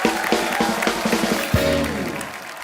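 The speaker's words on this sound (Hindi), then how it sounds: "अक्षय पाजी, इलियाना और ईशा के लिए जोरदार तालियां" Studio audience applause on a comedy talk show, a short burst of crowd clapping and cheering that rises quickly, with a musical sting coming in partway through.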